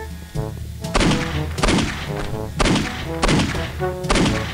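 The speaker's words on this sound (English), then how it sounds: "Why you guys keep shooting at me?" Police gunfire in the video game Postal 2, five or six loud separate shots spaced about a second apart, each a sharp crack with a booming tail, close and dominant.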